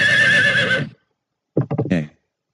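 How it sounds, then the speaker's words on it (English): A recorded horse neigh played by an animal sounds feature in WordPower software: one loud, shrill whinny close up, then a brief pause and a short series of snorting, fluttering breaths. "Horse says."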